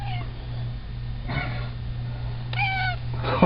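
A long-haired cat with big fuzzy feet meows while being held in a show pose, giving a few short, close complaining mews over a steady low electrical hum, with no talking.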